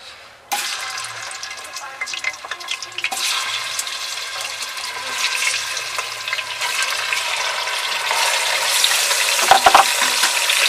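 Chicken frying in a pot for degi-style qorma starts with a sudden loud sizzle as it goes in, then holds a strong steady crackling hiss with scattered stirring clatter and no talk.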